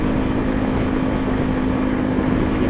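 Yamaha Tenere 250 motorcycle fitted with a sport exhaust cruising on a highway, a steady close engine drone with a strong constant tone and wind rush, no breaks in the sound.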